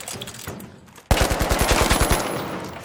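Automatic weapon fire in the video game The Finals: after a brief quiet lull, a rapid burst of about ten evenly spaced shots rings out loud and close, followed by a fading tail of reverb.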